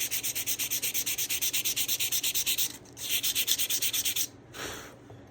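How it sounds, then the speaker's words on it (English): Hand sanding of raw aluminum, a rapid rhythmic back-and-forth rasp of abrasive on metal, close and steady, then a brief pause and a few slower, longer strokes. "I'm trying to sand just this half, and then the other half"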